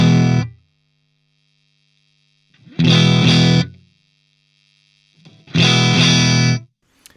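An electric guitar played through a Dr.Z Remedy amp with the treble control turned up gives three separate bursts of bright, distorted chords, each ringing for about a second before cutting to silence.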